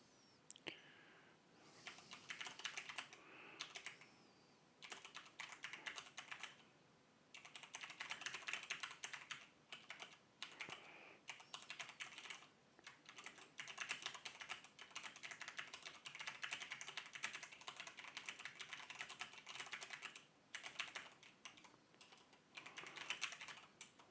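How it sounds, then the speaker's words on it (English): Rapid typing on a Mountain Everest Max computer keyboard, bursts of close, crisp key clicks with brief pauses between runs, no voices over it. "People have complained that they can hear me typing."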